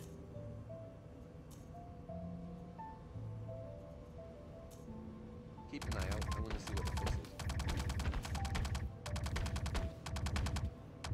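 Video game gunfire erupts as rapid, sharp bursts of automatic shots after a stretch of quieter ambient sound, loud and close and continuing in dense volleys to the end.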